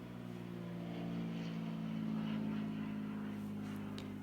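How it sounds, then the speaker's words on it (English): Float plane passing overhead near Parry Sound, a steady low propeller drone that swells slightly and holds throughout with no talk. "we'll hear more and more float planes go overhead."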